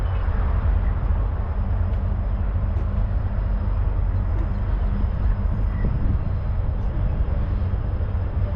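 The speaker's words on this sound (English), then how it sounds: "There's a freight train that's going across the railroad bridge over here." A freight train crosses a railroad bridge in Decatur, Alabama, giving a steady, loud low rumble with constant rolling noise that holds throughout and has no break in it.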